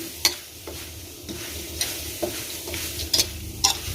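Herbs including kaffir lime leaves are being dry-roasted in a pan for jaew bong, with intermittent scraping and rustling stirs over a faint, crackly sizzle, close up and unaccompanied by speech.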